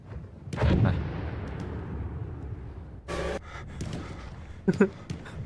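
Heavy booming blasts with rumbling low-end, a big one early and sharper bursts later, over continuous background rumble, like World War I battlefield explosions in a free video game.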